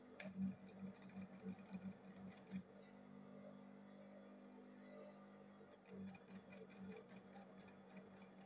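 Sewing machine stitching the side of a handbag, a faint rapid ticking run that pauses and resumes under steady low room hum.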